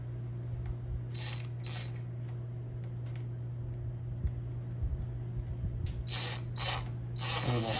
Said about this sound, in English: I'm gonna screw it in.